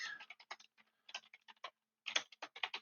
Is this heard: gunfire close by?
no